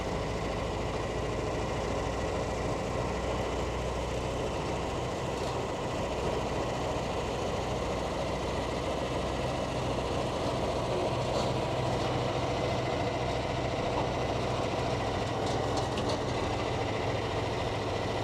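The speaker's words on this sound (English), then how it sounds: "Good news, our tractor fired up first start." An old tractor engine idles steadily after starting for a tractor pull, a continuous low rumble with a dense mechanical drone that stays loud and close throughout, with no talk over it.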